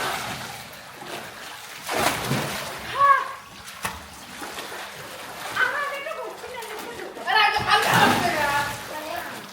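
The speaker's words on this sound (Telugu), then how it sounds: "ఇక మన కన్నయ్య అయితే వాటర్లోకి ఎంట్రీ ఇస్తుండు" A child named Kannayya climbs into a small water tub, with several splashes and sloshes scattered through the stretch while people talk over them.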